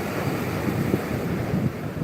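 Ocean waves wash steadily onto a beach in a continuous broadband rush, with wind buffeting the microphone and no voices present.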